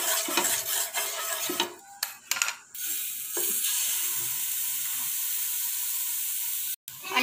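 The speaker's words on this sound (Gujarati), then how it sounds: "એને પણ આપણે આજુબાજુ ગોલ્ડન બ્રાઉન તળી દેવાનું છે" Besan and wheat flour pudla frying in oil in a pan, a steady close sizzle with brief clinks of a utensil scraping near the start and a short break near the end.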